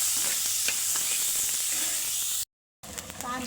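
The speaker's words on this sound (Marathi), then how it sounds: "कांदा घालून कांद्याचा कलर चेंज होता आपल्याला परतून घेणार आहे." Chopped onion sizzles in hot oil in a pan while cooking a ridge gourd dish, a loud steady frying hiss up close that cuts out briefly, then returns with stirring.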